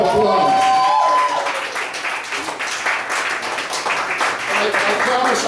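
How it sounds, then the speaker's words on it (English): A crowd applauds steadily for several seconds, a dense wash of clapping with a brief voice at the start. "Give her a round of applause."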